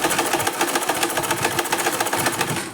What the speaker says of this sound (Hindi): बस आराम से ऐसे सीधी सिलाई लगा दो इस पर